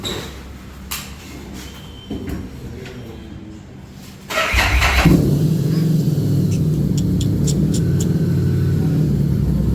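A 2023 Harley-Davidson motorcycle fires up partway through, then settles into a loud, steady, close-by engine rumble after a quieter stretch of faint background noise.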